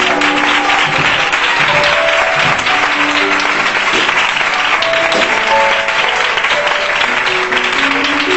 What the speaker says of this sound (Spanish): Fuerte ese aplauso mientras me echo un traguito de agua.